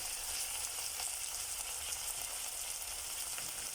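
Tomato and potato frying in a pan while being stirred together, a steady hissing sizzle running throughout with faint scraping from the mixing, no talking.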